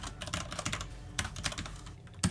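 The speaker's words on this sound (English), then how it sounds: "I might mute myself for a bit and just type this out." Rapid typing on a computer keyboard, heard up close with steady uneven clicks and a few louder keystrokes near the end, no voices.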